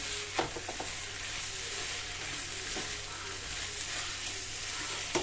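Beef mixed with garam masala fries on a high flame with a loud, continuous sizzle, broken by a few scraping stirs of the spoon against the pan.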